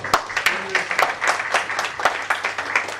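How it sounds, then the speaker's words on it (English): Audience applause at a banking quiz semi-final, a brisk run of many overlapping claps at an even level, loud and close, with no voices over it. "let's clap for PNB for getting Yashudas absolutely right"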